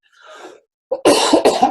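A soft breathy rasp, a brief pause, then a loud, close cough bursting out in two harsh, rough pulses.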